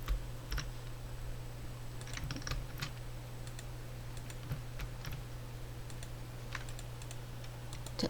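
Computer keyboard shortcut keys pressed while working in Illustrator, heard as scattered light clicks and taps in irregular bursts over a steady low room hum, close and fairly faint, with no talking.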